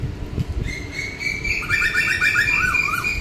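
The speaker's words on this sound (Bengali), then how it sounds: "শুধু কোকিল না, অনেক ধরনের পাখির ডাক শুনছি" Birds sing on the bank of the Ganges in the morning, with clear close chirps and a rapid repeated trill, over a soft outdoor murmur and faint distant traffic.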